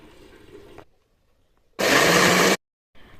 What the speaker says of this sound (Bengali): চলো এবার মিক্সিতে বেটে তোমরা দেখাচ্ছি